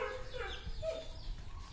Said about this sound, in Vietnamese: Đàn gà tre của mình thì có 2 con trống này.